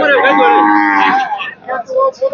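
A dairy cow at the Hazratpur cattle market lets out one long, loud, close moo, followed by a few shorter, broken lowing sounds.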